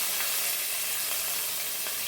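Chopped onion hits hot oil with spluttering mustard seeds and dried red chilli, giving a bright, dense, continuous sizzle close by with faint crackles, no voices.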